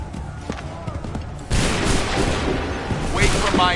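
A gunfire volley from an Assassin's Creed 3 video game erupts into a dense, loud roar of overlapping musket shots, with a brief shout ahead of it.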